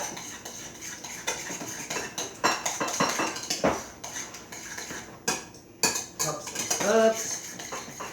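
A utensil clatters and scrapes around a bowl while corn cake batter with milk and fat is mixed, an irregular run of close metallic clinks and knocks, moderately quiet, with no talk.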